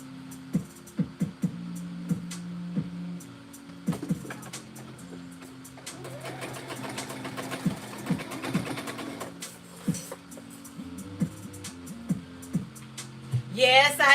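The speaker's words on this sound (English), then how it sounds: "let's sew this up, and then we're going to serge it clean" A sewing machine sews fabric in short intermittent bursts, with clicks and pauses between runs and a longer stretch of stitching midway, fairly close and moderate in level.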